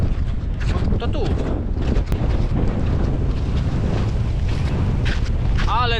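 Strong wind gusting across a winter mountain trail in the Tatras near Morskie Oko, a loud buffeting roar hitting the microphone throughout, with faint voices in the background.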